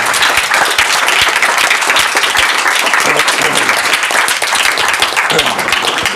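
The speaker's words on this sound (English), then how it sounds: "So an applause for our speakers whom are attending the whole Saturday with us here." A conference audience at an AI bootcamp gives its speakers loud, dense applause, many hands clapping together in a sustained, even roar close by.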